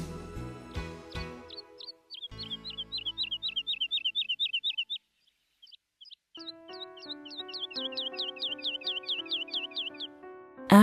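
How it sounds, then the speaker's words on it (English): A nightingale sings repeated bright, rising chirps in fast runs, with a brief pause midway, heard fairly close over a soft musical accompaniment. "So the little nightingale sang one final song for the oak tree."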